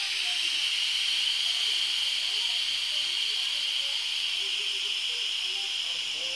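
An Instant Pot electric pressure cooker vents steam in a loud, steady hiss that holds unbroken throughout, with faint voices murmuring underneath.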